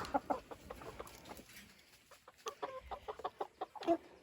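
Farm chickens and chicks cluck and peep at feeding time, a busy scatter of short close calls with soft background rustling.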